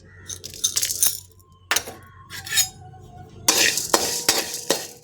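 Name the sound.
dry roasting horse gram with cumin and pepper, stirring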